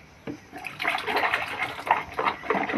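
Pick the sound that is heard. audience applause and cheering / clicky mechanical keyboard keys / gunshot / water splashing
water splashing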